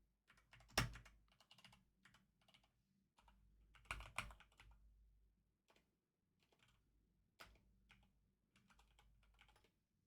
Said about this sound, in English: I guess we still have to do some typing